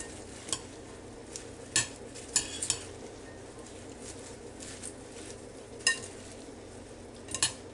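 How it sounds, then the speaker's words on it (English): Romaine salad with cucumber tossed together in a bowl: a quiet bed of soft rustling, broken by scattered sharp clicks and taps of utensils against the dish, irregular and close. "And we're just going to stir it all together."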